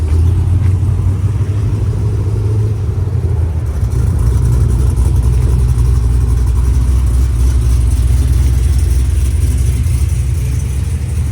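A cammed Chevy Caprice with a 6.0L V8, open long-tube headers and true dual 3-inch exhaust makes a loud, continuous, deep engine rumble and roar as it pulls off, close and sustained throughout.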